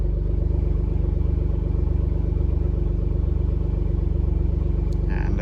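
An Alfa Romeo Giulia Quadrifoglio engine and exhaust idle in race mode with a steady, deep, pulsing burble, close and loud throughout, ending in a brief sharp click.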